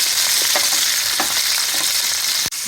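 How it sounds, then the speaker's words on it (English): Olives sautéing in a hot pan, sizzling loudly and steadily with a dense crackling hiss, a few brief stirring scrapes, and a sharp knock near the end. "Hear that sizzling?"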